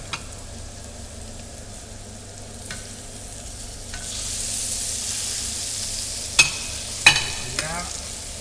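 Turnips and cucumbers fry in a pan with a steady soft sizzle, broken by occasional scraping stirs and a few sharp clinks of a utensil against the pan near the end. The sizzle swells slightly after the vegetables go in, and no one speaks.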